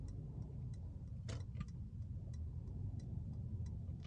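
The hazard lights' indicator ticks steadily and softly at an even pace under a constant low engine rumble inside a car. No one speaks.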